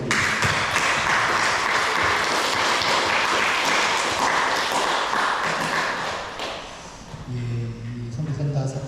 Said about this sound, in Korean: 이 감사의 박수 올려드립니다.